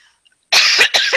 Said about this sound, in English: I didn't want you to hear me coughing